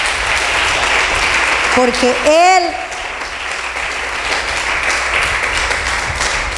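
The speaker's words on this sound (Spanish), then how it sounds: "Dale un aplauso al Señor más fuerte." An evangelical church congregation bursts into loud, sustained applause for the Lord during a sermon, a broad wash of many clapping hands that briefly peaks as a voice rises in a drawn-out shout, then settles into steady clapping.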